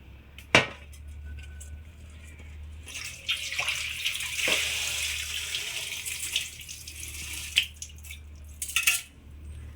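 Soaked rice is being washed while tap water runs steadily into a sink, with sharp clinks and splashes of the vessel and grains against metal rising above the constant flow.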